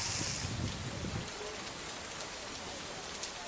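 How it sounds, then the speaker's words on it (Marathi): Heavy rain pours down in Lonar, Buldhana district, a steady dense hiss of drops hitting surfaces, loud and continuous throughout, with a deeper rumble in the first second. "बुलढाण्याच्या लोणारला पावसानं झोडपून काढलं असल्याचं पाहायला मिळतंय"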